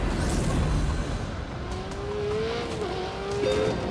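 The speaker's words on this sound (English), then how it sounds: "we've got a bit of a performance benchmark, a Ferrari 488" A Ferrari 488 laps a race track, its engine note rising steadily through acceleration with a brief tire scrub, loud and close throughout.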